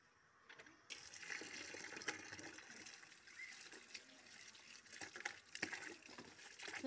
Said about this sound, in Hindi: इसको धो लेती हूँ।